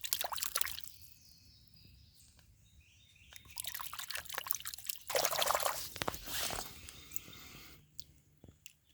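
Water splashes and trickles over a small fossil fish vertebra as mud is washed off it at a riverside fossil hunting site, with close, uneven bursts of pouring and dripping and quieter gaps in between.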